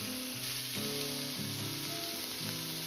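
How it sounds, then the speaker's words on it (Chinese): Chicken wings fry in a pan of oil over medium heat, giving a steady, dense sizzle close up that continues without pause, with no talking. "接着保持中火，把鸡翅像这样一个一个的放入锅中。"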